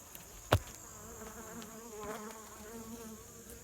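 Honey bees buzz softly around an open Layens hive during an October inspection, a low steady drone with one sharp knock near the start and no voices.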